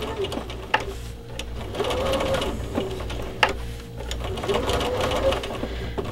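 A sewing machine runs steadily at close range, straight-stitching an appliqué onto a quilt block, its hum broken by brief pauses when the block is pivoted, with a few soft clicks.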